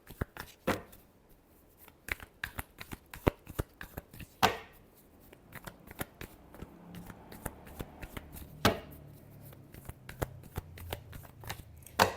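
Tarot cards are shuffled by hand in quick crisp bursts of riffling and slapping, close and fairly quiet, with a few sharper snaps standing out and a faint voice murmuring underneath.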